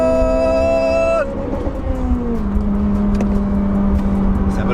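A Mugen Civic Type R accelerating hard, its engine note climbing steadily, dropping at a gear change, then rising again, heard loud and close from inside the car.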